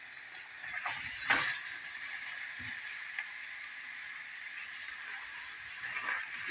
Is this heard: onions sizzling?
yes